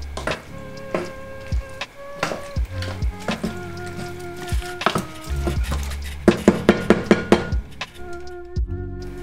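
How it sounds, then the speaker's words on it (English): Vegan mac and cheese sauce stirred in a pot over low heat, a steady run of spoon scrapes and knocks against the pot, close and fairly loud, quickening into rapid taps near the end, no voices. "then just slowly mix it together until everything melts"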